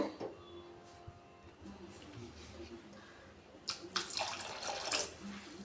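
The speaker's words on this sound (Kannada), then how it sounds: "ಇನ್ನೊಂದು ಸ್ವಲ್ಪ ನೀರು ಹಾಕೋಬೇಕು" More water is poured into a simmering pot of brinjal lentil sambar. A quiet stretch gives way to a bright, rushing pour in the latter half, heard up close.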